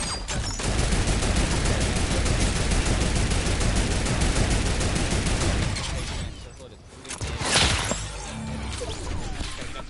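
Heavy sniper rifle shots in Fortnite ring out amid a dense, loud barrage of gunfire and crashing impacts during a fight, with a brief lull before one sharp blast near the end.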